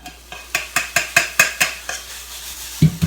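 Browned sirloin goes back into a pan, heard as a close run of about eight sharp, evenly spaced scraping and clinking strokes from a utensil, then a brief low thump at the end.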